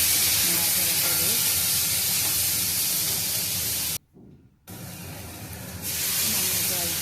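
Lentils sizzling in hot oil tempered with cumin as they are stirred, a loud continuous frying hiss broken by one short silent gap before resuming.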